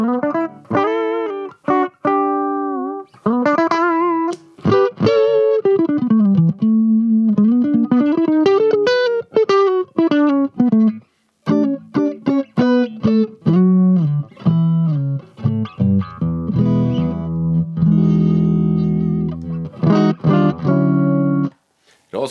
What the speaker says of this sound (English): Let's go over to JC Clean, which is Roland Jazz Chorus, legendary amp, renowned for its clean tones.